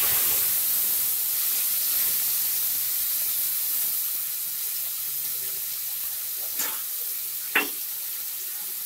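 Water splashed into a hot pan while cooking a fried-egg curry gives a steady, loud steam hiss with sizzling throughout, a couple of brief sharper spurts near the end, no voices.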